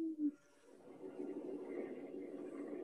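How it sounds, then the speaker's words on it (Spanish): A long-eared owl gives a short, low hoot right at the start, followed by a steady wash of broadband background noise for the rest of the clip. "lo primero que escuchábamos pues era el ulular típico del búho chico"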